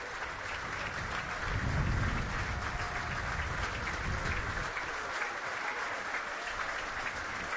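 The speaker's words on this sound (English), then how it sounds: "Brilliant to see supporters from both sides applauding here." Rugby league supporters from both sides applaud together at a Challenge Cup match between Featherstone Rovers and Wakefield Trinity, a steady broad clapping from a large stadium crowd that holds for several seconds.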